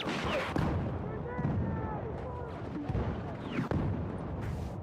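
Rapid video game gunfire and distant booming blasts fill a busy battle mix, with short bursts and sharp cracks repeating throughout.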